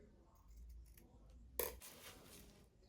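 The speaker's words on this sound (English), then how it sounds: "So I'll be cutting off the remaining bias." Scissors snip through leftover bias binding on fabric while sewing a Yoruba iro and buba outfit, one crisp close cut standing out over quiet room tone.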